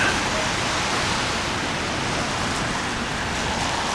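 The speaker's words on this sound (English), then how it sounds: "It's raining even more now," Heavy rain pours down on a city street in Montreal, a dense, loud, unbroken hiss of falling water filling the whole scene.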